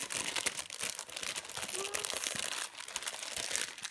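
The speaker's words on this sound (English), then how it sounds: "Sorry for the crinkling, yes." Plastic packaging of embroidery floss crinkles steadily and close up, a busy rustling and crackling that runs throughout with soft voice traces mixed in.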